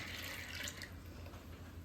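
Water pours and splashes into a bowl of washed urad dal, a bright rushing flow that eases off after a second into a low trickle.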